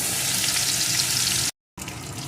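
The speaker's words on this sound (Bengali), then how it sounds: "একটা শুকনো লঙ্কা ফোড়নগুলো একটু ভেজে নিয়ে এর ভিতরে দিয়ে দেব কয়েকটা থেতো করা রসুন" Dried chilli, whole spices and crushed garlic fry in hot oil with a loud, dense, close sizzle, cut by a brief moment of silence before the sizzling picks up again.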